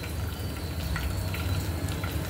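Cumin and mustard seeds sizzling in hot oil for a masala bhindi tempering, a steady, fine crackling hiss held low and even, with no talking over it.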